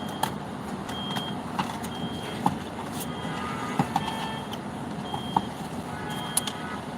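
Repeated high-pitched reversing beeps sound at a steady interval over a low rumble of idling vehicle engines, moderately distant.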